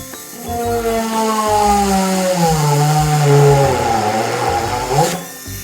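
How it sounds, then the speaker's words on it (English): A power drill runs while drilling holes for screws, a loud, steady motor whine whose pitch sags and rises as the bit bites and frees up, lasting several seconds with no talking. "turn on my drill"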